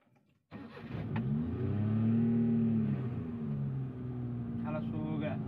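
A Maruti 800 pulling away in first gear, its engine note rising from quiet into a steady, close mid-pitched drone that climbs and holds as the car gathers speed, with a brief voice near the end.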